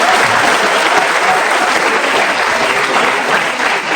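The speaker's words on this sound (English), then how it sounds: "I need a roll of clapping from the back side" Sustained audience clapping fills a felicitation ceremony hall for Grade A-1 SSC and HSC achievers, a dense, steady roll of many hands at close range, holding evenly throughout with a slight dip near the end.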